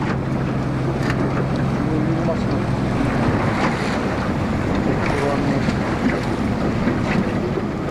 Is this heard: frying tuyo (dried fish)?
no